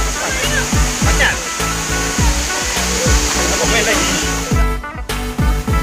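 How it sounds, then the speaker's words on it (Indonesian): Continuous broadband roar of the Alue Meuh waterfall in Sawang, North Aceh, loud and close, with voices faintly underneath and brief tapping sounds. "Ini guys, air terjun."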